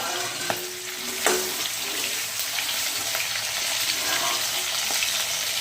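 Brinjals hiss and sizzle steadily in hot frying oil, a dense close crackle with a couple of faint utensil taps and no voices.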